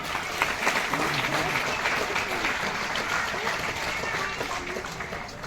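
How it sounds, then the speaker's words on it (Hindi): Applause from the audience at a Hindi poetry gathering (kavi sammelan), a steady patter of many hands at moderate volume, with voices murmuring underneath throughout. "उनका स्वागत करें तालियों से हम सभी लोग"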